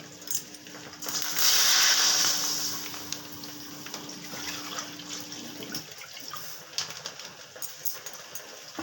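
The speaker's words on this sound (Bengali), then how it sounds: "আমি এখন 1 প্যাকেট দুধ কড়াতে দিয়ে দিচ্ছি।" Milk from a packet poured into a wok for sweet potato payesh, a steady liquid splash that swells loudly early on then settles into a softer trickle with light clinks, no one talking.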